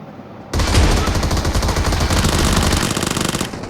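An Uzi fires in PUBG Mobile, one long, loud, continuous rattling burst lasting about three seconds with no pauses.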